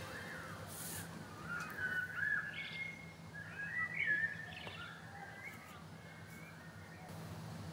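Birds chirp and call in short bursts over a steady ambient background in the woodland video game Root, with several brighter twittering phrases standing out mid-way.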